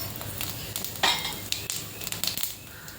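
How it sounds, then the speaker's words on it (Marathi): Mustard seeds dropped into hot oil for a tempering, a brief close burst of sizzling and light spattering, then scattered metallic clinks and faint crackle, no talking. "तेल तापल्यावर त्यात राई टाकून घ्यायची"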